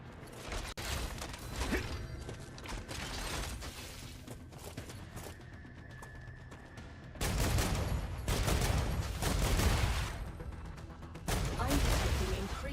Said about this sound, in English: Gun sounds crazy.